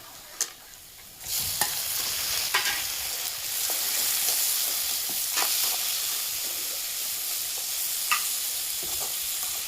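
Chopped tomato stir-frying in a pan for Kerala motta thoran, a steady soft sizzle with occasional sharp scrapes and clinks of a spatula, close and moderately quiet.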